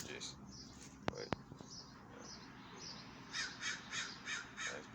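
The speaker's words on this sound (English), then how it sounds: "shout out to the Blackbirds" Blackbirds caw outdoors in a series of harsh calls, a few scattered early ones and then a quick run of five rhythmic caws near the end, moderately close above soft background noise and a couple of sharp clicks.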